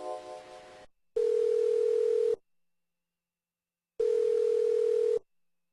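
Telephone keypad in the Toonstruck adventure game: a dial tone cuts off, then two long, steady electronic beeps follow with a silent gap between, clean and loud.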